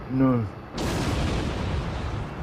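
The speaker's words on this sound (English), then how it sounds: "That was quite an explosion." Explosion in the space combat game Star Trek Online, a loud broadband boom that erupts suddenly and rumbles on steadily, just after a short burst of talking.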